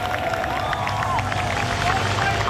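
Crowds lining London streets for the Queen's coffin procession break into spontaneous applause, a dense, steady wash of distant clapping blended with crowd murmur.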